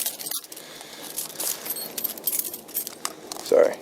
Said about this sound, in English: make sure I don't lose my car keys